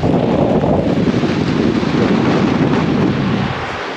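Cyclone Mandous wind and rain lashing a car on the drive to Chennai, a loud, steady roar of gusts buffeting the microphone with hissing rain throughout, easing slightly near the end.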